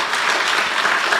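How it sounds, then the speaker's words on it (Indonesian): A church congregation at a worship service breaks into loud, dense applause, a thick continuous wash of many hands clapping close by. "Beri tepuk tangan lagi buat Tuhan kita."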